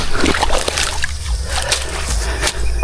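Water in a canal splashing and sloshing close by, a busy churning flow with brief splatters throughout.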